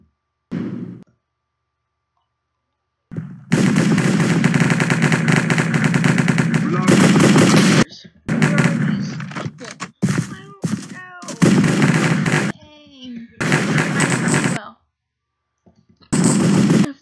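Rapid bursts of automatic gunfire from a cops-and-criminals shooter video game, loud and sustained in several long volleys separated by brief pauses, with short sharper shots and a player's voice heard between them.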